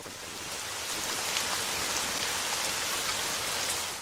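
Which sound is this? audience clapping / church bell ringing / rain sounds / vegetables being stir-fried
rain sounds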